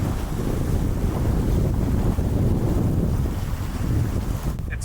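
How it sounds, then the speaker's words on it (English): A reefed sailboat running downwind at about five knots in light wind, a steady roar of wind buffeting the microphone with water rushing along the hull, loud and continuous. "That's downwind sailing, baby."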